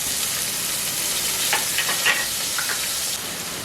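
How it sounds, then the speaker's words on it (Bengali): Chopped garlic dropped into hot oil, sizzling steadily and close, a dense hiss with a few brief brighter crackles partway through and nobody speaking. "এবার ওই তেলের মধ্যে দিয়ে দেব রসুন কুচি।"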